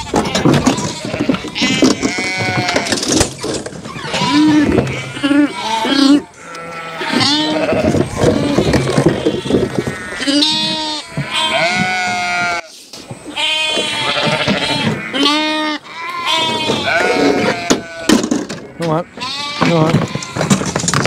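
Sheep and lambs bleat loudly and almost without pause as ewes are driven up the chute of a new handling system on a farm, with overlapping calls from many animals and someone talking among them.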